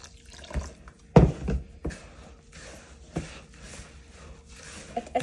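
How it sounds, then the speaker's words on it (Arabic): Water is added to bulgur for kibbeh in a home kitchen, heard as a few separate splashes and pours, with one louder gush and several softer drips, fairly close and quiet, with no talk. "هسه نضيف المي"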